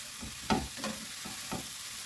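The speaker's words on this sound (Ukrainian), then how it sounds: "А поки цибуля стушкується, все гарно разом приготується" Onion stewing in a pan while mushrooms are cooked, a low, steady sizzle with a few soft stirring scrapes, quiet and close with no talking.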